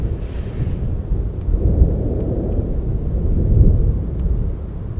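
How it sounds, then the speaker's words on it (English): Low thunder rumbles from a sudden storm under a shelf of cloud, a deep continuous roll that swells twice over a few seconds with a faint wind hiss and no voices. "Yeah, thunder."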